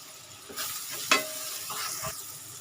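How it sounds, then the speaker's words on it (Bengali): Spice paste with tomato and cumin powder fries in a pan for pabda fish curry, a short soft sizzle with a few stirring scrapes, fairly quiet. "এখন আমি মশলাটা ভেজে নিচ্ছি।"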